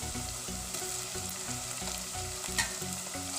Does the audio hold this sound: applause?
no